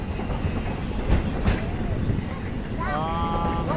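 A Magic Kingdom theme park train rolls steadily along the rails with a low, continuous rumble and occasional clanks; a voice briefly speaks near the end.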